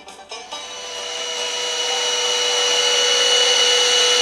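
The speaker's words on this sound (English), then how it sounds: "Stop the vacuum. Stop it." A vacuum cleaner starts with a couple of bumps and then runs continuously, its motor whine rising and holding loud and close with a steady high-pitched roar.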